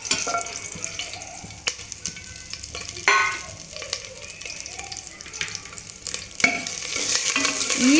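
Mustard seeds, cumin, garlic and curry leaves sizzle and crackle in hot oil for a sambar tempering, a steady close frying hiss with stirring scrapes and sharp pops.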